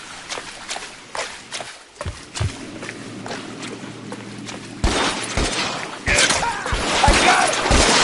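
A boat is rammed during a gunfight in L.A. Noire: sharp cracks and clattering impacts scattered over a steady engine drone, then a louder crunching crash and heavier bangs near the end, with a voice shouting briefly.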